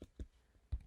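A few soft, dull keyboard taps, faint and close, spaced out over under a second.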